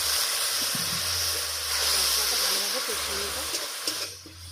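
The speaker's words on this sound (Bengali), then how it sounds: "অল্প একটু জল দিয়ে দিলাম" A little water goes into a hot pan of chili and turmeric powder for a meatless egg-style curry, raising a loud, steady hissing sizzle that holds for several seconds before quickly dying down.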